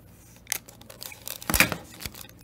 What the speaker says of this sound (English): Let's peel this tape off.